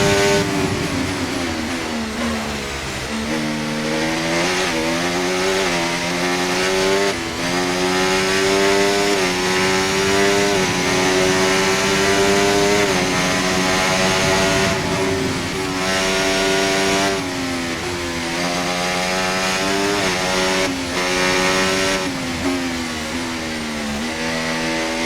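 Race car engine in the F1 24 video game at the Miami Grand Prix, a loud continuous whine that rises and falls through gear changes across the whole stretch, with no talking.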